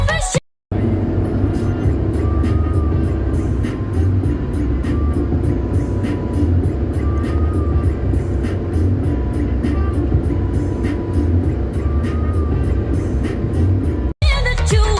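A car cruising along the Durgapur Expressway, a loud steady road and engine drone heard from inside the cabin, with the rumble continuous and unbroken apart from brief cuts at the start and end.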